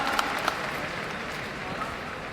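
A stadium crowd at a celebration program for a direct-selling company applauds in a dense, steady wash of clapping and cheering noise that runs through the whole stretch, with a voice faintly present beneath it.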